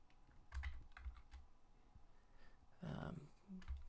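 Computer keyboard typing during a programming tutorial, soft scattered clicks and keystroke bursts, one denser run near the end, fairly close but quiet.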